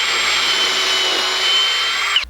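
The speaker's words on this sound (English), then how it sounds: "It's also a good idea to pre-drill these holes" A power drill whines steadily at high speed, pre-drilling a hole into scrap wood for about two seconds before stopping abruptly; close and loud.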